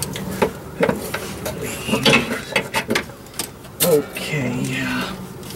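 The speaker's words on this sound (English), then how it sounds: "Need my 3/8 ratchet. It's the only way this thing's coming off." A 3/8-inch ratchet wrench works on a fuel pump part, giving bursts of clicking ratchet strokes and metallic clatter at close range, with a voice talking over parts of it.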